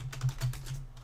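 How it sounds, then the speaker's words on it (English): Rapid clattering keystrokes on a loud computer keyboard, close and continuous with a steady low hum underneath, no talking. "I'm sorry if my keyboard's loud"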